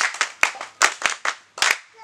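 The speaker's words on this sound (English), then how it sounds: "Let's clap for that one" Several people clap a few times in irregular bursts, sharp close hand claps spread across about two seconds on a Luo-language TV news broadcast, with a voice faintly underneath.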